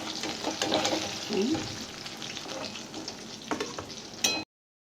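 Fish frying in a pan, a continuous close sizzle and crackle with occasional scraping and knocks as pieces are turned, ending abruptly.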